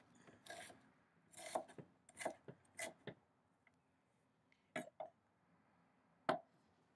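Knife chopping vegetables such as snow peas and carrots on a board during dinner prep, heard as scattered sharp cuts and scrapes in short bursts with quiet gaps between them.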